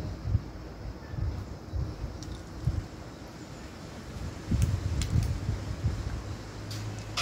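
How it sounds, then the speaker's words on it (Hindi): Wind picks up outdoors ahead of a storm in India, a faint low rumble of gusts buffeting the microphone, rising and falling over several seconds with no voices. "देखो हवा चलनी स्टार्ट हो गई है।"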